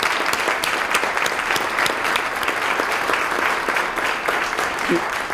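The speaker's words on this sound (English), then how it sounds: "Let's give them a round of applause." Steady applause from a crowd at a city State of the City address, dense clapping holding at an even level for several seconds.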